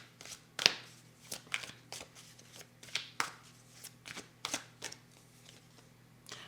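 Tarot cards being shuffled and drawn during a reading, a quiet sequence of soft papery flicks and slaps repeating irregularly every half second or so, close and alone without talk.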